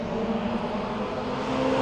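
A continuous roar of race cars passing at the Bang Saen Grand Prix street circuit in Thailand, steady and broad, with no clear break between vehicles.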